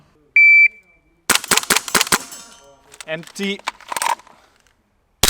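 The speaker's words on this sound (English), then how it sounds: "let's do it with the gas blowback rifle" An airsoft gas blowback rifle fires a rapid string of about six sharp, close cracks. A short electronic beep comes before the shots, and a mechanical clatter and a brief spoken word follow.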